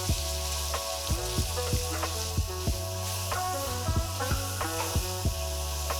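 Sliced bananas sizzle in caramelized sugar in a pan, making a continuous hissing fry under plucked background music with a regular beat.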